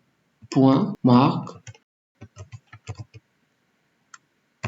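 Python code is typed on a computer keyboard as sparse, crisp key clicks scattered over a few seconds, following a short burst of speech.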